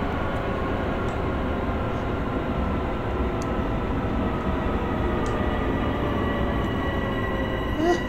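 A Long Island Rail Road train in Train Sim World pulls into a small station during a blizzard, giving a steady, loud rolling rumble with faint humming tones that holds level throughout, with no voices.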